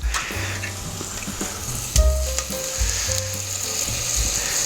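Onions frying in a pan give a steady, close sizzle with occasional stirring clatter, and a sharper knock comes midway through, with no talking.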